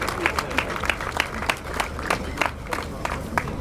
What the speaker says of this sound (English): let's give the synchro pair and red 8 a massive round of applause